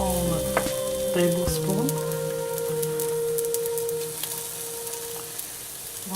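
Pumpkin pancake batter sizzles in a hot skillet, a steady crackling fry that carries on throughout, with a voice speaking briefly over it.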